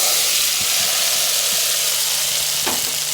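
Mustard seeds sizzling in hot oil while tempering a Kerala curry, a dense steady hiss and crackle close up with a few soft stirring clinks, no talking.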